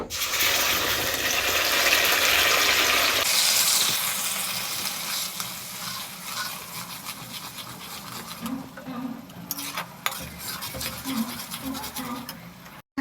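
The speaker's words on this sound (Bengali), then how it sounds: "এবার মশলাটা ভালো করে কষিয়ে নেব" Spice paste sizzles and scrapes as it is stirred and sautéed with meat in a pan, a steady loud fry early that eases into quieter frying with scattered clinks, while someone talks over it.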